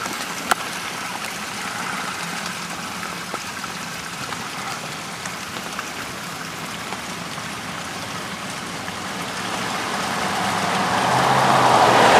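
Flash flood water rushes down a residential street and pours into an overloaded storm sewer, a loud continuous watery roar and splash that swells louder toward the end.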